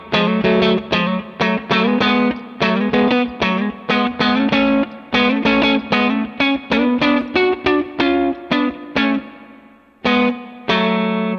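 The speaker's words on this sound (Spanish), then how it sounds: "Me voy a poner un poquito de reverb, porque la guitarra aquí tiene un poquito de reverb" Electric guitar drenched in reverb plays an ascending melody harmonized in thirds with small slurred legato notes, a steady run of bright, sustained picked phrases with a brief pause near the end.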